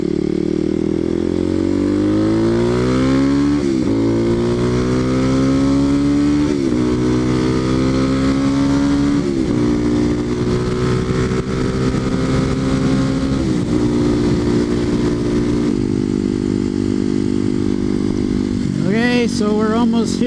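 A Kawasaki KLX250sf motorcycle engine hums steadily throughout a ride toward Rabbit Mountain, its pitch rising and falling through gear changes, loud and close, with wind noise and a voice briefly audible.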